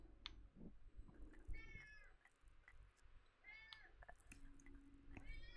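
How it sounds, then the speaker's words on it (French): A house cat meows several times, each cry drawn out and rising, spaced a second or two apart at moderate distance. Soft dripping and faint game sounds run underneath. "Désolé pour mon chat qui miaule"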